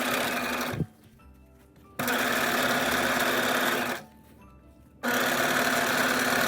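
A sewing machine runs in two loud, steady bursts, stitching a half-inch seam along the raw edge of fabric for a scripture case, with short quiet pauses between runs.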